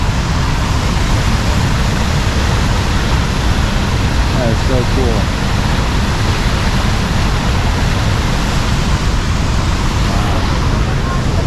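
Tahquamenon Upper Falls pours with a steady, loud, broadband roar of rushing water that never lets up, while people nearby talk over it.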